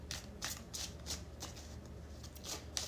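Tarot cards shuffled by hand close by, a fast run of crisp riffling bursts in an even rhythm, with no talking.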